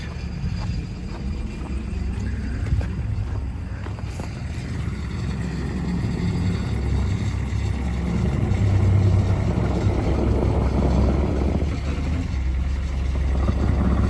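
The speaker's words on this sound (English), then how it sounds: "that's our little loader tractor" A loader tractor engine idles with a steady, low rumble that holds evenly throughout, close by and with no talking over it.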